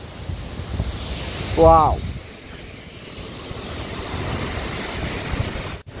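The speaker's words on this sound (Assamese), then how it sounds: "নদীটো এই এনেধৰণে বৈ গৈছে" A river in the mountains on the way to Tawang rushes steadily, with a broad, continuous wash and wind noise, while a person briefly exclaims.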